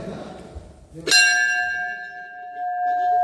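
A single strike of a Datta temple bell in Palshet rings out clearly and sustains a long, pure humming tone that slowly fades, with faint voices before and after.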